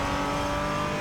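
A Porsche Cayman GT4 in the iRacing sim at Laguna Seca sends out a loud, steady engine drone under power, held in fourth gear, with no talking over it.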